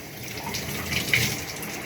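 Shower water runs in a steady, close hiss with no pause, a broad even spray throughout and no voices.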